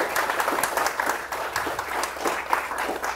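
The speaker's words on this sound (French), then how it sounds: "Je crois qu'on peut l'applaudir." A seated audience at a conference applauds a speaker being introduced, brisk dense clapping that continues evenly at moderate loudness for a few seconds without talk.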